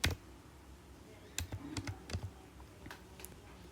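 Code being typed on a computer keyboard, a close, quiet run of distinct key clicks coming in short irregular bursts, with no talking.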